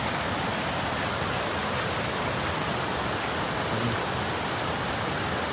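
Bangara Kusuma waterfall near Gerusoppa and Honnavar, swollen in the monsoon, gives a dense, unbroken roar of rushing water with no other sounds.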